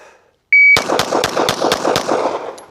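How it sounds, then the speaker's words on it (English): Six rapid pistol shots from a Glock fired in a quick even string, loud and close, preceded by a short electronic beep from a shot timer. "Curious what the splits would be if I have the gun out and I shoot it."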